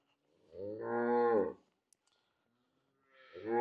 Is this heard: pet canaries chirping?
no